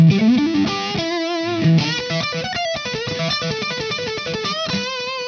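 A Fender Stratocaster Highway One electric guitar plays a loose run of distorted notes and chords, loud and close, with no voices.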